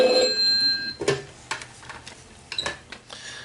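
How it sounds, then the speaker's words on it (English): A telephone ringing, a bright electronic ring at the start followed by several sharp clicks and clattering knocks, heard alone and fairly close. "Oh, phone is ringing."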